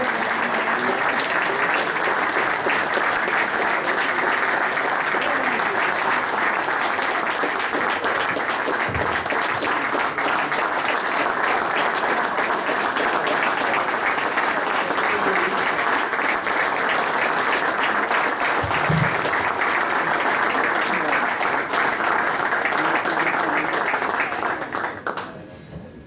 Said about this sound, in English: So please join me applauding now, applaud, for the 2016 Kaylee Rivers Courage Award recipient, Kathy Albrecht.